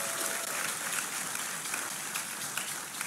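A church congregation claps together in a soft, even wash of applause, somewhat distant and steady.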